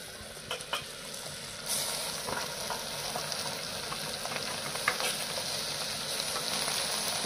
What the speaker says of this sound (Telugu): ఆయిల్ వేసి ఇదిగోండి మనం పెట్టుకున్న గోంగూర, వడేసిన గోంగూర అది వేస్తున్నాను